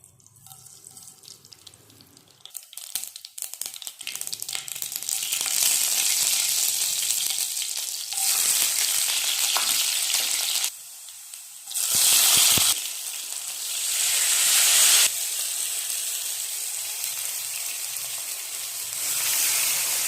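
Ground masala sautéing in a hot pan, a loud continuous sizzle that builds after a few scattered crackles, dips briefly near the middle, then surges back and carries on steadily, with no voices.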